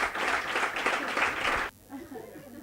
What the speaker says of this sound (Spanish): ¡Fuerte el aplauso para Juanma Molina,